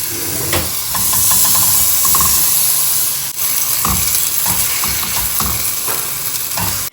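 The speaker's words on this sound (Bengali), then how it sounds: "ননস্টিকিতে বানাচ্ছি যাতে একদমই সামান্য তেল লাগে। চিংড়িটা পরেই ভাজবো।" Shrimp coated in chicken tandoori masala fries in a nonstick pan with very little oil, giving a loud, continuous close sizzle and hiss with occasional stirring scrapes.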